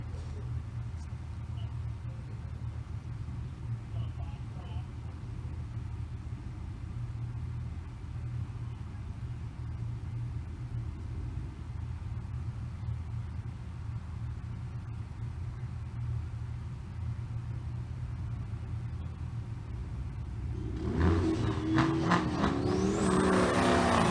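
Drag racing 6th gen Camaro at the track, a steady low engine rumble idling in the lanes, then a sudden loud burst of revving and launch near the end.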